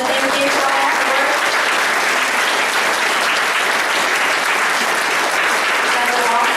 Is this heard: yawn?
no